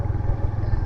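Motorcycle ridden along a rough mountain road in the Allai Valley toward Pashto village, with a steady low engine drone and a continuous rumble and rattle close by, no pauses.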